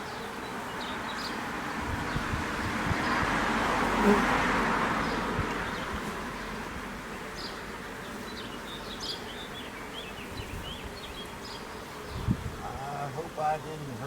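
Honeybees buzz in a dense, continuous drone during a swarm transfer in a suburban yard, swelling slightly midway, with occasional rustling and handling noises near the end.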